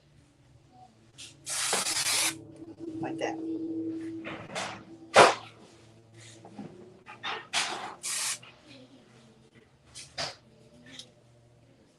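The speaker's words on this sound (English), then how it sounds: "now I'm going to do a quick spray from the very top here" A spray bottle gives several quick hissing bursts over a fabric stole, the longest near the start and shorter ones following, close and fairly loud, with a person talking quietly in between.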